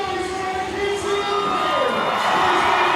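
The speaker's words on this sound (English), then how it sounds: "The crowd goes crazy every time." A baseball crowd at a Banana Ball game against the Florida League All-Stars cheers and whoops loudly and steadily, a dense roar of many voices with children's shouts mixed in.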